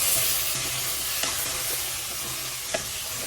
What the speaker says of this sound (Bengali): এখন আমি দিয়ে দিব ধুয়ে রাখা আলু আর সিম। তো আলু আর সিম দিয়ে আমি ভালো করে কষিয়ে নেব।